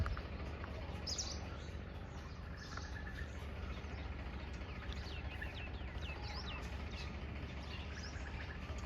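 Many birds chirp and call over a farm field in the early morning, a steady chorus of tweets mixed with distant calls against a constant low background rumble.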